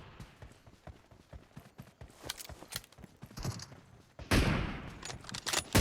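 M24 sniper rifle fire in a shooting video game, a run of sharp, punchy reports and clatter that grows denser and louder toward the end, with no speech.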